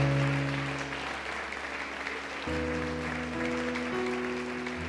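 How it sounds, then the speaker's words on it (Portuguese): A church congregation claps for the Lord during a Portuguese-language worship service. Continuous applause runs throughout over a steady held musical drone, with a brief shift in the tones midway. "Dá uma salva de palmas para o Senhor."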